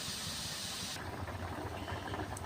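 Spice paste fries in a pan for a rohu fish belly curry with eggplant and potato. A bright hiss in the first second drops to a softer, crackling sizzle that continues steadily, fairly quiet, with no voices.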